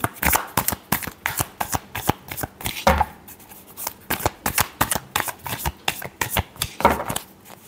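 Tarot cards are shuffled close up in rapid, rhythmic riffles and taps, with repeated crisp bursts running continuously and no talk.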